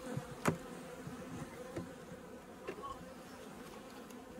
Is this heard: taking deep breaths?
no